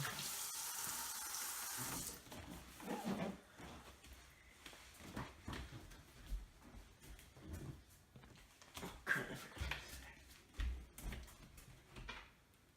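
Water runs from a kitchen tap for about two seconds while hands are washed, then is shut off, followed by quieter clatter and movement at a kitchen sink.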